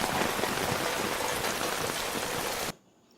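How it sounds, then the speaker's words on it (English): Heavy rain from a TV series pours in a dense, constant hiss, loud and unbroken for nearly three seconds before cutting off to near silence. "All that rain, you're just drenched all the time."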